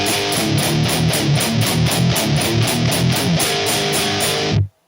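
High-gain electric guitar riff played with hard, steeply angled picking: a fast, relentless chugging pattern of tight palm-muted hits with a bright pick attack, loud and close, stopping abruptly at the end.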